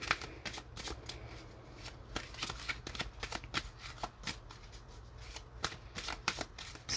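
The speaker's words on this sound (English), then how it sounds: "Probably be able to riffle shuffle this," A Crystal Magic Tarot deck is riffle shuffled repeatedly, with crisp bursts of card flutter and snapping bridges in an irregular rhythm, close up and quiet, with no talking.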